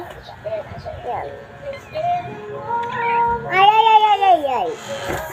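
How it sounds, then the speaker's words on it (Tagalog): A pet cat meows indoors, a loud drawn-out yowl rising then falling near the end, with a few shorter mews before it under a woman's chatter. "yun yung pusa ko."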